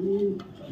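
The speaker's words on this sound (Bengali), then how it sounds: "ব্লু শ্যাডেল ফিমেল কবুতর," A blue shadel female pigeon coos once in a low, steady, close-up call lasting under a second, with no talk over it.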